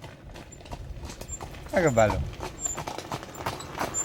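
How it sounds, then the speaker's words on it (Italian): A horse passes on a street with a brief run of clip-clopping hoof beats that swells near the middle, while people talk over it. "Guarda, c'è il cavallo."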